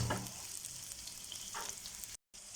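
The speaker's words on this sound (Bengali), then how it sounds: "পেঁয়াজ কাঁচামরিচটা আগে ভেজে নেব।" Chopped onion and green chilli frying in hot oil in a pan, a steady close sizzle with a few louder spits near the start and a brief dropout just before the end.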